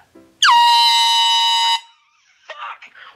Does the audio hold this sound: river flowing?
no